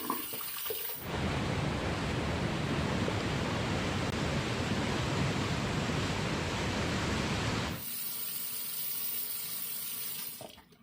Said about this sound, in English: So let me rinse off real quick.